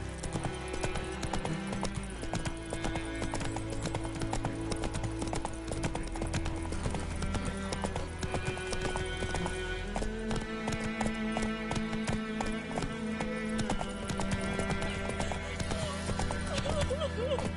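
Continuous horse galloping clip-clop from The Witcher 3 drives a rhythmic, close pattern over sustained game music, with occasional neighing and a brief spoken line.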